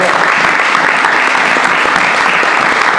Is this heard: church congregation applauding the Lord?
yes